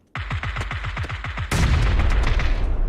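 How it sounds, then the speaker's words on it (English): Video game gunfire: a rapid, evenly spaced burst of about a dozen close, loud shots is cut off by a heavy grenade blast that leaves a sustained roaring rumble. "So I led with a nade and started shooting him"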